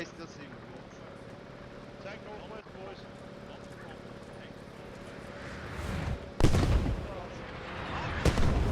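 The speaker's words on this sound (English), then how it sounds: "But there comes the artillery barrage as well." Artillery barrage and rifle shots in the video game Post Scriptum, heard as a steady low battlefield rumble and then two loud, booming blasts near the end, with a voice talking throughout.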